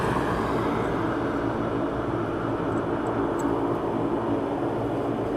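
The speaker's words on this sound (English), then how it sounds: "See RYANAIR taxiing out." Ryanair aircraft taxiing out at East Midlands Airport at night, a steady broadband engine rumble and hiss held at constant level from a moderate distance, with no speech.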